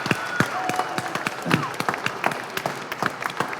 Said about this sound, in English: so we can give all of you a big round of applause